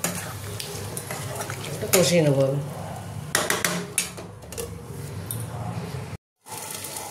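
Spice masala for a Bengali shankar fish curry being sautéed in a pan, with steady sizzling and stirring scrapes while a person speaks briefly over it, then a short silent gap.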